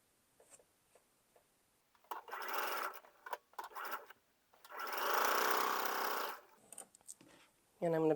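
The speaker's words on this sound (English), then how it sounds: "I'm going to go ahead and I can finish sewing this row" A sewing machine stitches a row of a quilt block in several short bursts and one longer steady run, close and fairly quiet, with pauses between and brief handling noises.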